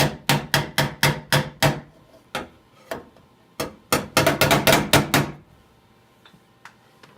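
Hammer and dolly on a freshly welded rust-repair panel of a 1990 Nissan 240SX, fast runs of bright metallic raps in two clustered volleys with a few isolated taps between, close and loud.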